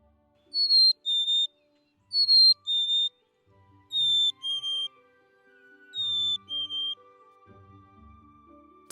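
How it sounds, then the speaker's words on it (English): A black-capped chickadee whistles its clear two-note song four times, each a high note falling to a slightly lower one. The calls are evenly spaced against a quiet background with faint low rustling. "A black-capped chickadee sounds like this."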